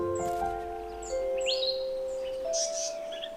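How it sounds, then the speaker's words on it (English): A pair of African paradise flycatchers call agitatedly in the wild, giving thin whistled notes and sharp rising chirps over steady background noise, with a few repeated tonal calls. "African paradise flycatchers are usually noisy birds."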